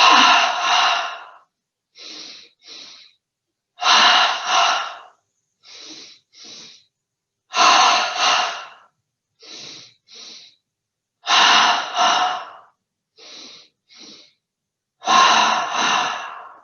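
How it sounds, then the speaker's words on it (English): Yoga breathing with double inhalations through the nose, each pair of quick sniffs followed by a long audible exhale, repeated in a slow regular rhythm five times, close and clear with no talking. "5 double breaths, breathing in through the nose twice."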